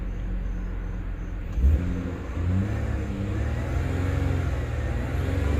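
A 2006 Ford Five Hundred with a 3.0L engine and faulty throttle response idles with a low rumble, then revs up briefly and settles into a steady, slightly raised drone, heard close with no talking.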